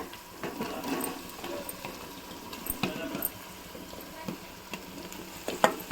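Potatoes and turmeric stirred and frying in a pan while meal maker pulao is cooked, a steady soft sizzle broken by scraping strokes of a spoon and occasional clinks, close and continuous.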